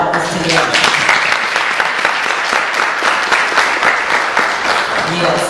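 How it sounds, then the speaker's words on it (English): Sustained applause from an audience at a family reunion prayer breakfast, given for the reunion committee: dense, steady clapping filling the room at even loudness throughout. "give another round of applause to the family reunion committee that put all this together"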